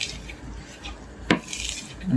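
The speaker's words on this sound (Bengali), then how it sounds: "ডিমটা ঢেলে দেওয়ার পর সুন্দর করে মিক্সার করে নেবে" A utensil stirring rotten-egg fishing bait for tilapia in a bowl, giving soft scraping sounds and one sharp clink against the side, close by.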